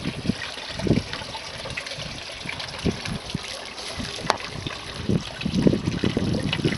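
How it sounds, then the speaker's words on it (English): Aquaponics siphon tube draining water back down into gravel-filled grow beds, a steady close trickle and gurgle with irregular bursts of splashing. "It sits below the level of the rocks, so that way it just siphons back down into the drain and drops back down into the grow beds."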